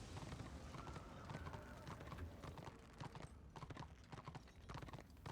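Rapid hoofbeats of horse mounts galloping in an online fantasy video game, quiet and steady clip-clop with occasional heavier thuds, with someone talking over the game.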